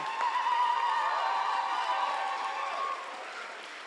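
A crowd applauds and cheers, a dense wash of clapping with some whoops that gradually eases off toward the end.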